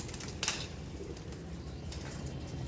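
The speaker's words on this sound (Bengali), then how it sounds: "এখানে দেখুন পায়রাগুলো দেখুন সব পায়রা" Pigeons in a loft coo softly and faintly over a low indoor rumble, with one brief brighter flutter or call near the start.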